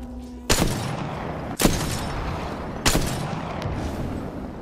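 Three loud, sharp gunshots from a video game shooter, each a sudden broadband crack with a short decaying tail, spaced roughly a second apart over steady background noise.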